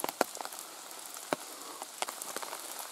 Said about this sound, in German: weil natürlich die ganzen Tropfen jetzt hier von den Bäumen runterkommen